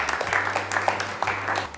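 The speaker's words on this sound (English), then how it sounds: "I think this deserves a clap from all of us" Group applause in a corporate setting, a steady patter of many hands clapping for under two seconds, with a low hum beneath.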